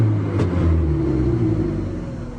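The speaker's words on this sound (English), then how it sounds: "it revs up just as quick as it did before" A car-like engine on a GEET setup with a carburetor revs up quickly and loudly close by, a strong low rumble swelling then easing back over a couple of seconds, with no talking.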